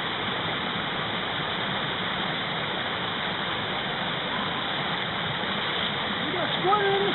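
A gold-prospecting stream rushes steadily under a ledge, its broad close wash of moving water holding an even level for about seven seconds with a faint splash near the end.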